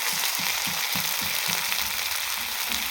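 Potatoes and okra fry in a pan with salt and turmeric, a dense, steady close sizzle holding at even loudness, with soft rhythmic stirring thumps underneath.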